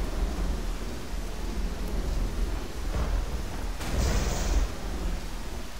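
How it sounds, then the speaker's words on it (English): A video game storm rumbles with steady rain noise and a low thunder surge near the end, moderately loud with no voices. "Oops, triggering the storm again."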